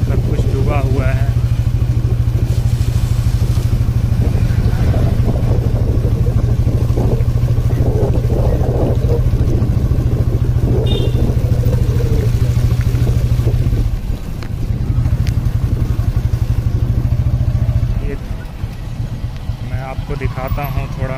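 A motorcycle rides along a flooded village road during a Saryu river flood, its engine droning loud and close, then easing off and cutting down near the end as the bike stops, with someone talking over it.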